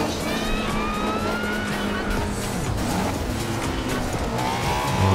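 A Honda S2000 in Forza Horizon 2, its engine revving loudly with rising and falling pitch while tyres squeal through a skid, a close, continuous racing roar.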